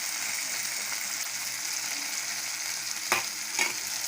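Tomatoes and capsicum sautéing in a pan for an Indian egg masala, a steady close hiss of frying with two brief stirring scrapes near the end.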